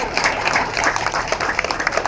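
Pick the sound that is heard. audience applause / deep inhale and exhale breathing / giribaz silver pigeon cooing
audience applause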